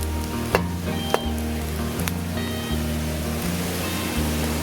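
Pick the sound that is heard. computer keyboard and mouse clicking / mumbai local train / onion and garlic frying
onion and garlic frying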